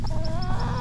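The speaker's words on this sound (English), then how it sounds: "Oh, I see the rooster." A chicken gives a short, close cluck over steady low background noise from a farmyard.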